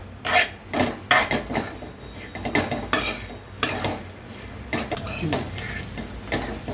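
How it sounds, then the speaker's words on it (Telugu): Meal maker and egg fry being stir-fried in a pan after coriander powder is sprinkled in, with repeated scraping and clinking of a spatula against the pan over a soft sizzle, close up, no talking. "ఒక్కసారి 1 నిమిషం పాటు ఫ్రై చేద్దామండి."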